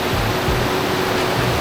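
The Pliva waterfall in Bosnia roars steadily and loudly, a dense, unbroken rush of falling water close by with no voices.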